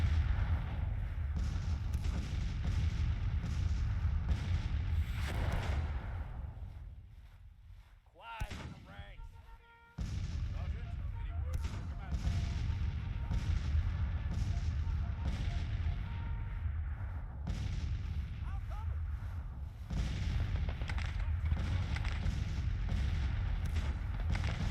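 Artillery guns boom repeatedly in the Civil War strategy game Grand Tactician, a dense rumbling barrage of cannon fire with a brief lull partway through, while someone talks over it.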